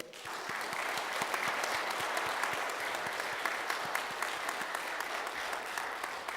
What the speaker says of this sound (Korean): 우리 한번 큰 박수 한번 할까요?